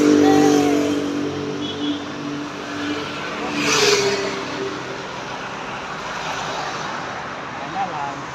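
Motorcycles pass along a road near a hospital, a steady engine drone that swells and fades as a machine goes by mid-clip, moderately loud over a constant traffic background.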